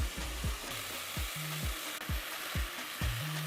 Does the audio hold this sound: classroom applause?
no